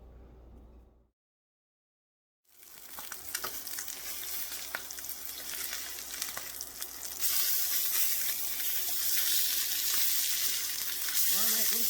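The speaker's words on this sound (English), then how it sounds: "we're going to be cooking this salmon over medium-high heat for about 5 to 7 minutes" Salmon fillet frying over medium-high heat, a steady bright sizzle that starts after a brief silence and swells louder midway, with occasional crackles and spits, close and continuous.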